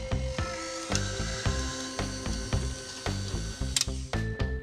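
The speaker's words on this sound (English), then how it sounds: "I'm going to beat this first on low speed to blend in the icing sugar and then increase it just to make the base of the cookie dough." An electric mixer on low speed beats cookie dough and icing sugar, producing a close, rhythmic mechanical clunking and whirring with repeated knocks as the beater churns the stiff mixture, with no talk.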